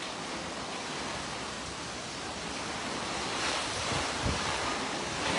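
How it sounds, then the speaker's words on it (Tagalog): Strong floodwater from Typhoon Kristine rushes in a dense, steady roar of broadband water noise, with some wind buffeting. It is loud and continuous, and no voices are heard. "Sobrang lakas ng agos."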